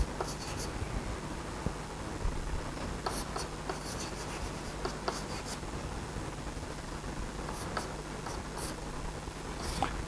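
Pen or chalk writing out a maths integral equation, continuous faint scratching strokes with scattered light taps over a steady background hiss, no voices heard.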